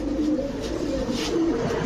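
Pigeons coo softly and repeatedly in a Bangladeshi pigeon shop selling fancy breeds, low throaty calls overlapping nearby with a faint background murmur.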